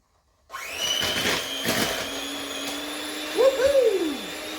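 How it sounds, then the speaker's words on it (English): Electric hand mixer whirring steadily while combining thumbprint cookie dough, loud and close, with the motor pitch wavering as the beaters work through the dough and a brief sliding tonal sweep near the end. "we're just going to take our handy dandy little mixer that I hate"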